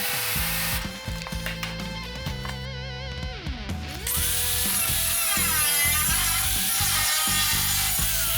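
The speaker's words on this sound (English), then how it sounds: "So you can drill those out, peel this off." Loud, continuous power-tool whine of a drill biting into metal to drill out spot welds on a 1956 Chrysler Windsor body, with pitch sweeps and grinding as the bit works through, then a steady high screech.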